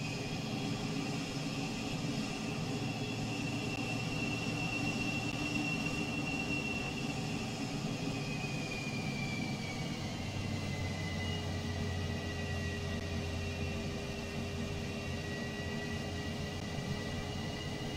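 An F-4J Phantom jet in Microsoft Flight Simulator 2020 roars at full afterburner for takeoff. The engine noise is loud and steady throughout, with whining tones that slowly rise and shift, and no one speaks.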